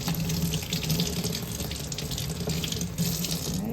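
Cold water runs steadily from a tap into a sink, rinsing hand-dyed purple fabric, a continuous close splashing hiss with no talk.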